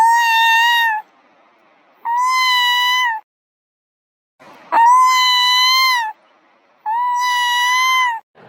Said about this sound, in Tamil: ஏதோ பூனை கத்துற மாதிரி சத்தம் கேட்குது